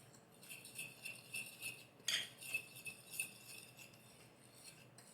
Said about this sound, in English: I'm going to kind of stir all this together, just get it all incorporated, all blended up